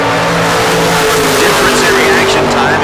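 Drag race with a Beretta against a Mustang powered by a small block Ford, a loud continuous engine roar with rising revs, heard under an announcer's steady commentary.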